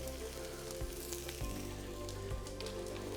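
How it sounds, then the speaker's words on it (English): Steady crackling sizzle of shrimp cooking on a hot Himalayan salt block, a dense, close hiss with small pops and a low hum beneath. "You can hear a nice sizzle"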